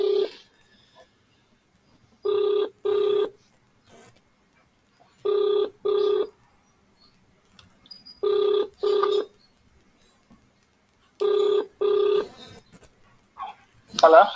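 A telephone rings on speakerphone in a steady pattern of paired rings, four double bursts evenly spaced with silence between, followed by a voice answering at the end.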